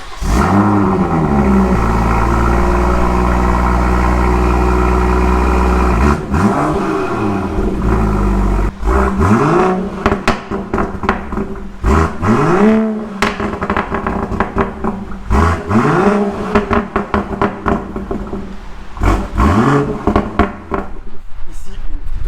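A lowered 2019 BMW M240i, phase 2, idles with a deep steady rumble, then is revved repeatedly in sharp bursts that climb and fall back, loud and close.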